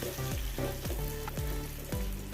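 Amul butter, three pieces, sizzling as it melts in a hot pan while making sabudana caramel kheer, a steady close fry with repeated stirring scrapes throughout and no talking.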